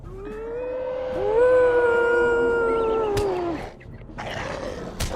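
Wolves howling in a Middle-earth video game: several long, overlapping rising-and-falling howls, one loud and near, tapering off around the three-second mark, followed by sharp clicks and rustling noise.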